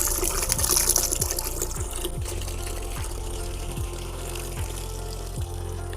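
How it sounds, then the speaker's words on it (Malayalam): Water gushes into a bucket to dilute an effective microorganism solution, loud and splashy at first and then settling into a steadier filling sound, with no voices. "ഇതിൽ നമുക്ക് ഇരട്ടി വെള്ളം ഒഴിച്ചു കൊടുക്കാം"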